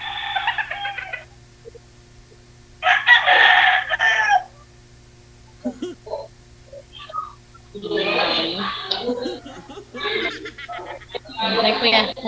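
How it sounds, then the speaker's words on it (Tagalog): Chickens and a rooster belonging to a backyard keeper cluck and call in several loud bursts, close to the microphone, amid a steady low electrical hum and quiet gaps. "Dami kong manok kasi dito eh."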